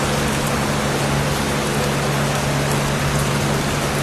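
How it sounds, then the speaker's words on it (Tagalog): A very heavy downpour pounds outside the gate of the Department of Justice, a dense, unbroken roar of rain close by, with a faint steady hum underneath and nobody speaking. "bumuhos po yung napakalakas na ulan"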